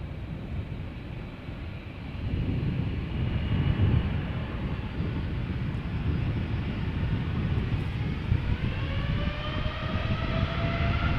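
American Airlines airliner bound for Philadelphia at Amsterdam Schiphol Airport, its jet engines roaring steadily and swelling louder, with a rising whine emerging over a broad, continuous rumble.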